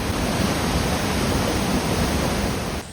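Cheonmun Waterfall near Seoul pours with a dense, steady roar of falling water that ends abruptly.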